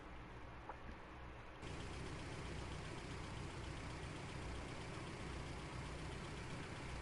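A car engine runs in the video game The Walking Dead, a steady low droning hum that swells to a fuller, louder rumble after a moment and holds evenly throughout.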